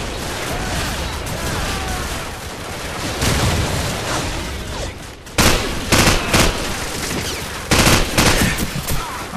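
Heavy gunfire from the PC game Call of Duty 4: Modern Warfare, sustained rattling bursts and volleys that grow louder and harsher in the second half, with a faint voice in the background.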